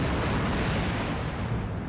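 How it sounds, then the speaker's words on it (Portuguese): A powerful aircraft fuel tank explosion from an ignition test roars through the whole clip, a dense, loud rumbling blast with deep low-end boom and no voices. "A força da explosão surpreendeu nossos técnicos do EMRTC."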